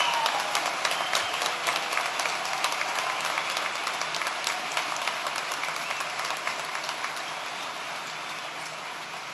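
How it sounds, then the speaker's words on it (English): A large crowd claps steadily for state police recruits at their graduation ceremony, dense and even applause that fades slightly toward the end. "Let's give them a round of applause and congratulate them for all their good work."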